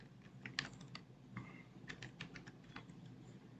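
Typing on a computer keyboard during a Windows 11 Firefox setup, a quiet, uneven run of light key clicks with a few sharper taps, close to the mic and with no voice over it.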